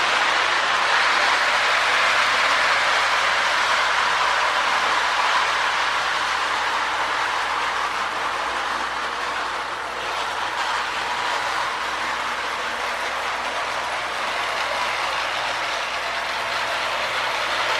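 A K-line S2 model train locomotive with dual motors and traction tires runs steadily, producing a continuous loud mechanical whir and gear rattle with no talking.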